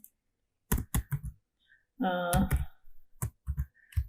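Keys on a computer keyboard clack in short irregular bursts, close and distinct, with a brief hummed vocal sound in the middle.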